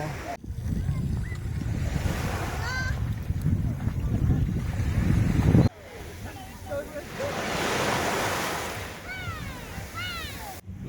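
Surf washing onto Château Royal beach at Anse Vata, Nouméa, New Caledonia, with a steady wash of waves and wind buffeting the microphone, plus brief higher chirping calls in the background.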